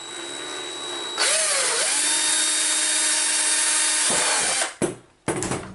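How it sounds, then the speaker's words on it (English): A power drill whirs steadily at high speed for about three seconds as it bores a pilot hole, then slows, stops briefly, and revs again. "So we drill a pilot hole."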